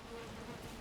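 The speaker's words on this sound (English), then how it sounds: "Probably leave the bees here, I'm thinking." Bees buzz at a player's base in the video game Valheim, a short steady droning hum that is soft and close, heard alone.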